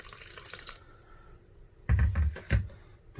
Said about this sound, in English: Let me add more water